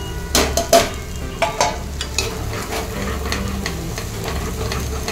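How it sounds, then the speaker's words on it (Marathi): Spice masala of ground paste, red chilli powder, turmeric and asafoetida sautéing in oil for Maharashtrian bhogi bhaji, a steady close sizzle with a few sharp spoon-stirring scrapes and clinks near the start. "आता हा जो मसाला आहे ना, चांगला आपण यात तेलात परतून घेऊया।"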